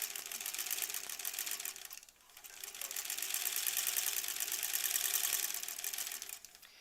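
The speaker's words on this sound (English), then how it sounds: "I am sewing all the way to the end" A sewing machine stitches granny squares for a quilt in a long continuous run, with steady rapid needle chatter that dips briefly near two seconds before carrying on to the end.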